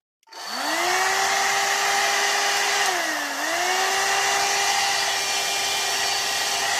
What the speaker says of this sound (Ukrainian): Навіть можна побачити, що по волосі воно дує.